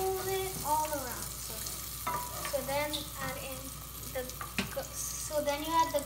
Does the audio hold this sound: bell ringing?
no